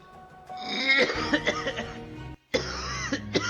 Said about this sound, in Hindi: आप खांसना बंद करोगे प्लीज?